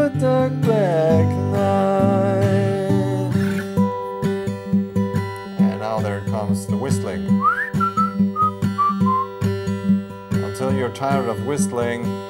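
A person whistles a melody over strummed acoustic guitar chords, the whistled line clear and fairly close, with talking mixed in at times.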